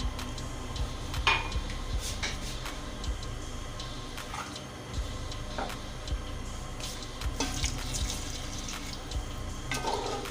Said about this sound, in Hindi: अब इसमें 2 गिलास पानी डाल दें